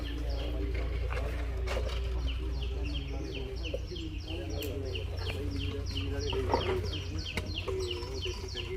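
Birds call repeatedly in quick, rhythmic chirps over a low engine-like hum, with clucking fowl-like sounds mixed in and occasional sharp knocks.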